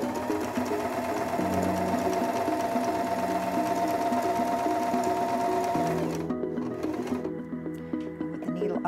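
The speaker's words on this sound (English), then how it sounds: "Now step on the foot control to resume sewing." Singer M2400 sewing machine stitching a buttonhole, a close, steady mechanical whir with a rapid needle rhythm that slows and changes pitch near the end before winding down.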